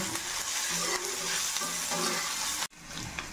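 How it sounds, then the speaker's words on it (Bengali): Cubed capsicum and onion fry in a pan for chilli paneer, giving a continuous crackling sizzle with light stirring that cuts off abruptly near the end, then resumes more faintly. "ক্যাপসিকাম আর পেঁয়াজটা আমার ভাজা হয়ে এসেছে"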